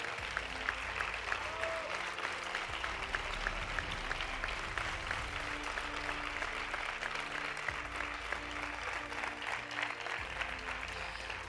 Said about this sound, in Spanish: Un fuerte aplauso para Isabel Hernández Horta.